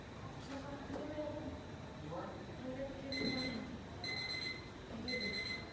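An alarm sounds in three short repeated bursts of bright, steady beeping during a group counseling session in a classroom, with voices and room chatter continuing underneath.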